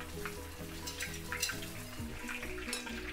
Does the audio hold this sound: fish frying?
yes